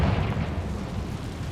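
The Confringo fire spell in Hogwarts Legacy goes off as a loud, booming explosion with a heavy low rumble that holds steady through the moment, and no one talks over it.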